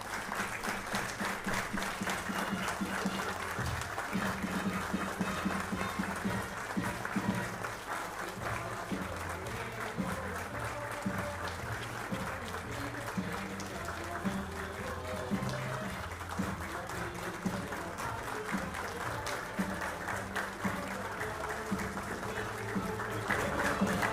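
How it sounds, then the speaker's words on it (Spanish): Steady applause from an audience at a school memorial ceremony as the ceremonial flags are escorted out, dense and continuous with faint crowd murmur and a low musical bed underneath throughout. "Invitamos a todos los presentes a despedirlas con un fuerte aplauso."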